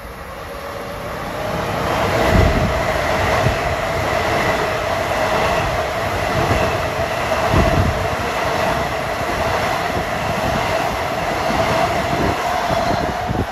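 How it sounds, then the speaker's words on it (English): Long Island Rail Road M9 train, 1963 from Ronkonkoma to Penn Station, running through Merillon Avenue station without stopping: a steady loud rumble with rail hiss and wheel clatter, brief thumps from passing joints, sustained throughout. "Approaching is 1963 en route from Ronkonkoma to Penn Station with M9s."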